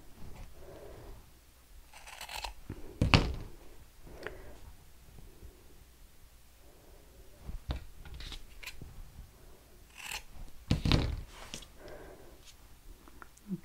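Scissors snip fabric for a small doll sock, a few quiet, sharp clicks spread out among soft rustling and handling sounds at close range.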